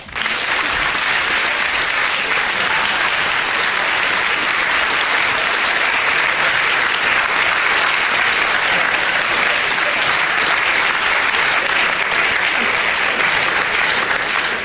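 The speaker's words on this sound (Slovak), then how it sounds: "Dámy a páni, privítajme veľkým potleskom skupinu Krímeš" A gala-evening audience in a hall welcomes the duo Krímeš with loud, dense, sustained applause that holds steady for about fifteen seconds without a break.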